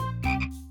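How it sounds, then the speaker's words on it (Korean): A single frog gives one short, close, loud croak, a brief buzzy call that stands alone. "개구리."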